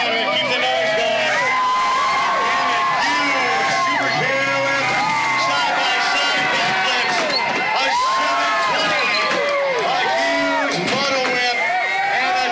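Crowd at a BMX freestyle stunt show cheering, whooping and shouting loudly and continuously, with a voice talking over the noise throughout.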